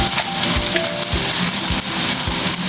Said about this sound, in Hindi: और अब ये मैं चिकन डाल रही हूँ।